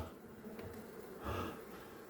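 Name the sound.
bees buzzing during bee hive cut-out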